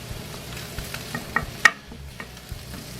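A cup of cooked rice is stirred and broken up in a hot frying pan for a Cajun chicken stuffing, giving soft scraping stirs and faint sizzling with a few sharper utensil clicks. The sound is quiet and close, with no talking.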